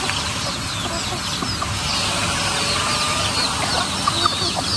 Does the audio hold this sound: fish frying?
no